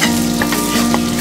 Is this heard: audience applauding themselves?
no